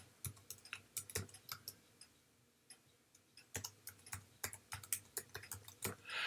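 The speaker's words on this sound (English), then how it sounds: "I'm going to type in diverse populations." Quick bursts of typing on a computer keyboard, crisp close clicks in irregular runs with a short pause midway, followed by a faster flurry and a final louder rustle, no voices.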